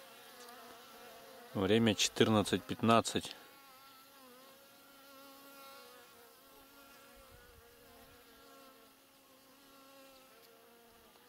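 Bees buzzing around a beekeeper's hives in spring, a faint continuous hum with harmonic whine; one loud close pass flies by the microphone early, and a short word is spoken.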